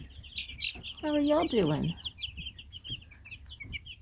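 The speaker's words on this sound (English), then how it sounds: "I actually think that's a rooster that makes that noise." A rooster and young chicks huddled under a heat lamp on a homestead during April frost: a loud, close rooster call over soft, continuous high peeping from the chicks, with a person speaking quietly.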